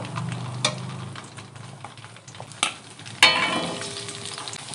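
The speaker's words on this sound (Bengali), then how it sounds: "পুঁই শাক আর আলুগুলো ভেজে নেব।" Potatoes and Malabar spinach fry in a little oil, giving a moderate sizzle with scraping and clatter from stirring, including a louder burst of hissing partway through.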